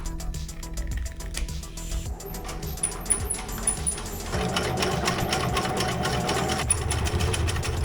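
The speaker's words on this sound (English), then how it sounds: "I'm gonna go ahead and sew on the bottom portion of the Velcro" A sewing machine stitches Velcro onto a thermal pack panel for a camper shell, a steady rapid mechanical chatter that runs close and loud throughout, picking up slightly in intensity partway through.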